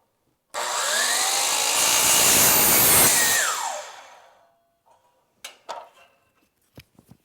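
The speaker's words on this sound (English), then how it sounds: "I'm set up to cut this piece of aluminum." A sliding miter saw cuts aluminum angle with a loud, close, high-pitched whine that lasts about three seconds and then spins down. A few light clicks and clunks follow.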